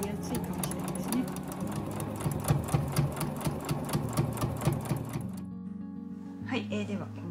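A sewing machine stitches a tatami-edge tote bag in a fast, even mechanical rhythm, then stops with a clunk, with quiet talk from a voice alongside.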